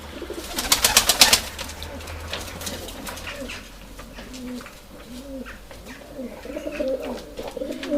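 White Istanbul pigeons coo repeatedly in soft, rolling phrases, with a brief burst of wing flapping or fluttering near the start and steady low background noise throughout.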